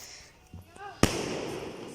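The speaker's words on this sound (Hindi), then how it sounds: "अब देखो पटाखा छोड़ रहे हैं" A single sharp firecracker bang on a rooftop during Diwali, loud and sudden, followed by a lingering crackle and hiss, with faint sounds before it.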